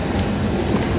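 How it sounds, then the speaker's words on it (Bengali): A Dhaka metro rail train sits at the station, giving a brief, steady low rumble and hum of rail carriages with no talk. "কাঙ্ক্ষিত ট্রেনটা এসে গেছে।"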